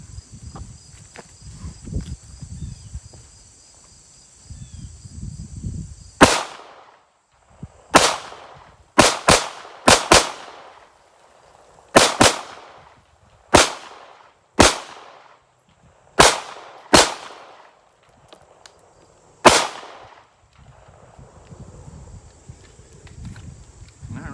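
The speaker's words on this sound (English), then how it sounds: "let's go through this last mag, and then we've got about 10 rounds after that" SARUSA B6C pistol fired outdoors through its last magazine, about a dozen sharp, loud gunshots in an irregular sequence, some in quick pairs, with quiet pauses between and a faint insect or electronic hum in the background.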